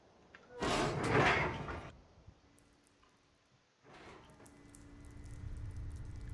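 A submarine hatch opens in Fallout 4, giving a loud metallic burst of scraping and clanking, then a quieter stretch of low rumble and faint ambient noise as play continues.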